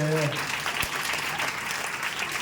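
A church youth group claps together, a steady wash of moderate applause from a roomful of people, briefly overlapped by a voice at the start.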